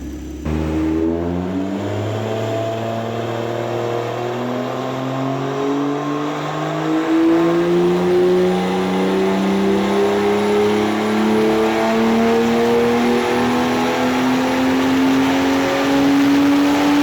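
A turbocharged BMW M2 making 625 bhp with a big turbo holds a loud, sustained rev on a dyno, its pitch climbing smoothly over a long pull with a whirring drone and no talking.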